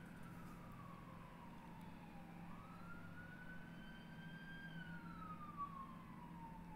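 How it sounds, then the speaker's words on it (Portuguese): A siren wails in the video game Little Hope, one long tone sliding down, then up and holding, faint and distant over a low background hum. "Essa sirene é a gente indo resgatar a Angela, gente"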